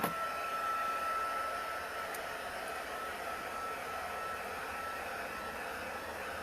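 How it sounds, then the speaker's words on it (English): A heat gun blows steadily on crystal clear enamel spray sealing a waterslide image, a constant soft airy whir with a faint high whine, running alone throughout. "I'm going to hit it with the heat gun."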